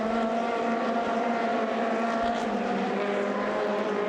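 Coppa Shell race car engines screaming during a race at Sochi, a dense, steady high-revving drone with layered engine tones throughout, loud and continuous with no talk.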